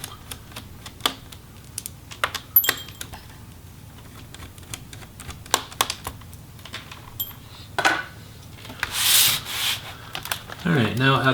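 A Phillips screwdriver backs out small screws from an MSI GE62VR Apache Pro laptop case, producing close, sharp little clicks and ticks in irregular bursts, followed by brief rubbing and scraping sounds, with no talking.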